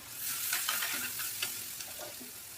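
Butter sizzles and fries on a tawa for veg tawa pulao, a steady close hiss broken by soft stirring scrapes, with no voices.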